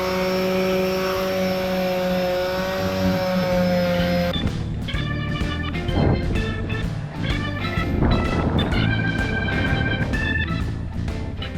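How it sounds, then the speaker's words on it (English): A generator running aboard a sailboat, its steady hum giving way to repeated rasping strokes of sanding on the cockpit bench, with irregular scraping bursts over a continuous mechanical drone. "Then I start the generator and sand the cockpit bench."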